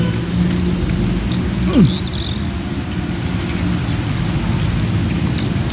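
Heavy rain pours steadily and loudly throughout, with a low rumble of thunder underneath and a faint bird call at one point; no one speaks.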